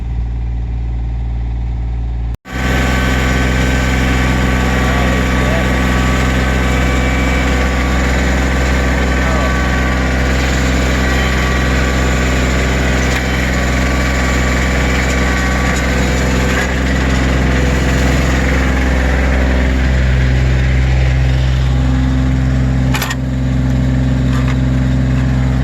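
An International Loadstar truck engine starts and then runs steadily at a loud, even idle with a deep rumble, close and continuous for about twenty seconds, the tone shifting slightly near the end.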